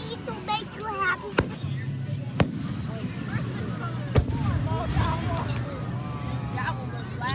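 Fireworks at a 2025 display burst in three sharp, booming cracks spread over several seconds, set against a steady bed of chatter from children and adults nearby.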